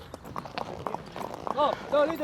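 Horse hooves clip-clop in a steady rhythm during a ride on a white horse near a beach in Casablanca, Morocco, heard close under talking voices and wind.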